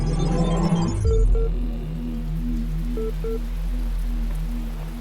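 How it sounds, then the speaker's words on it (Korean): Steady, close rain hiss in the puzzle video game The Talos Principle, falling continuously over soft sustained game music tones. "여기는 왜 비가 오지?"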